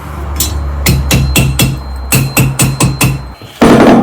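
Close, sharp hammer strikes dome and lock rivets on a homemade spit roaster, about ten quick metallic taps in two rhythmic bursts with a short pause between them, ending in a louder scrape.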